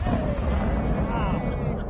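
Three pounds of tannerite detonating under an empty propane tank 175 yards away: a loud, heavy rumbling boom that fills the whole moment and rolls on without a break.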